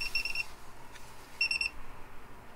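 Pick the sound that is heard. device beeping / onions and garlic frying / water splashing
device beeping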